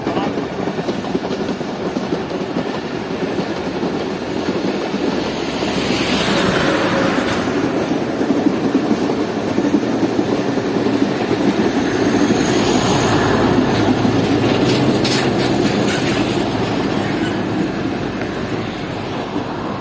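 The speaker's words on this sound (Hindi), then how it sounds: "14 डाउन अवाम एक्सप्रेस हमारे पहुंचते ही वहां से गुजर गई" Awam Express passenger train crossing the Bakhlara bridge on the Havelian line, a steady loud rumble with faint clickety-clack of wheels on rails throughout, swelling slightly midway.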